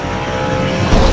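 A NASCAR race car at full throttle along the wall during the Xfinity 500, a brief loud engine roar that swells toward the end, close and unaccompanied by talk.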